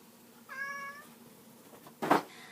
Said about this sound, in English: There's a cat outside the window.